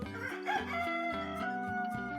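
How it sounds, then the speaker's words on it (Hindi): A rooster crows in the morning, one drawn-out, harmonic cock-a-doodle-doo lasting about two seconds, clear and close with no speech over it. "मुर्गों की बांग"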